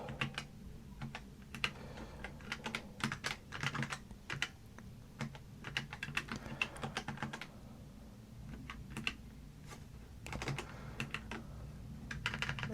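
Keys clatter on a computer keyboard as C code is written, coming in quick irregular bursts of soft, close taps with short pauses between runs.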